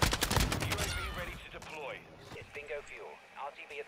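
Rapid pistol gunfire in the video game Modern Warfare 2 cracks out in a quick burst at the start, then fades under a player's excited talking.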